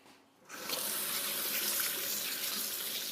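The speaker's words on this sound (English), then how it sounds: "just gonna wash my hands" Hands being washed under a running kitchen tap while baking chocolate chip cookies. The water turns on after a brief quiet moment and then pours in a steady, close, full hiss.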